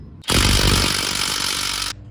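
A close, loud impact wrench hammers for under two seconds on a 14 mm bolt of a Honda Civic's rear trailing arm, a rapid buzzing rattle that starts abruptly and cuts off cleanly.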